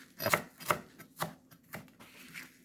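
Garlic chives chopped into 2.5 cm pieces with a knife on a cutting board, about six crisp, evenly spaced chops in a steady rhythm, close and alone.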